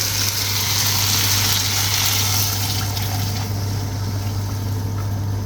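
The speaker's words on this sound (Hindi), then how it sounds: "I'm just putting 1 glass of water." A glass of water is poured into a pan of mutton chops pulao masala, a steady rushing splash strongest in the first few seconds over a constant low kitchen hum, with no talking.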